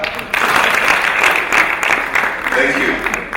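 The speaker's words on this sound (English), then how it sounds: "let us give them one hearty clap" A crowd claps steadily for a few seconds, a dense wash of applause with a voice or two audible through it.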